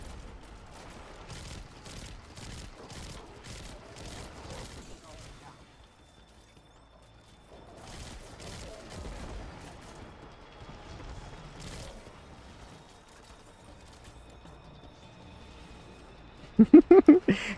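Breakneck auto rifle in Destiny 2 fires in rapid sustained bursts, a run of evenly spaced shots, a pause, then another stretch of fire, with background game noise and a loud burst at the end.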